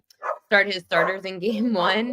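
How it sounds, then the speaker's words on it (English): Dogs bark close by, their yelps blending into someone talking on a sports betting podcast. "Sorry for the dogs."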